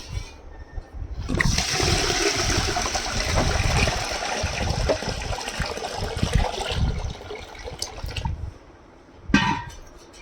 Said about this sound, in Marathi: आता पाणी टाकलं आहे